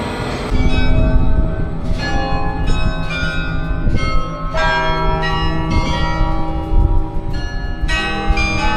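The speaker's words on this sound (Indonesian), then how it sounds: "pas gue naik lagi ada suara lonceng" Loud clanging clock tower bells in Ghent, Belgium ringing repeatedly in an irregular series, strikes overlapping with long resonant ringing, heard close by over low background rumble.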